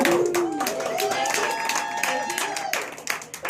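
Audience at a comedy show at Cacao Lane applauding a stand-up comic, a short burst of clapping and crowd noise with voices and laughter mixed in, fairly close and steady before tapering off.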